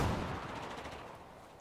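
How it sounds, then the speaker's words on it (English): Gunfire in a Battlefield 4 match at an esports tournament, a steady dense burst of shots that fades slightly over less than two seconds, with no voices. "He'll be able to pick up the first frag there onto Vitz."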